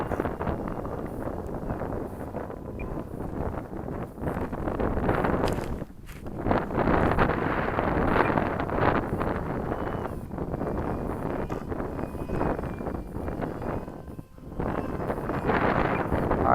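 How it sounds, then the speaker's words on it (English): Strong, freezing wind gusts outdoors at a high-wind glider flying session, roaring steadily and loudly across the microphone with brief lulls. "And this wind is something else, my gosh."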